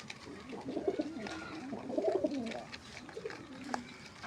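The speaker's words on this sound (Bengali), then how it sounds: "মুরগি কবুতর একসাথেই থাকে," Pigeons coo in a steady, near chorus of soft warbling calls, kept together with chickens in a rural Bengali yard, with no talk over them.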